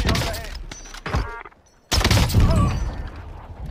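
Sniper rifle shots from the Tundra in Warzone, a few sharp cracks with booming tails spread across a short stretch of gameplay, with a quiet gap in the middle and talk running alongside.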